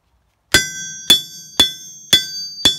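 Five evenly spaced hammer strikes on a steel anvil in a knifemaker's shop, each a bright metallic ring with a lingering high tone that fades before the next blow.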